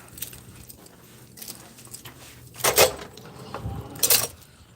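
Keys jangle near at hand as someone leaving an office checks for them, soft rattling at first and then two louder clinking bursts, with no speech.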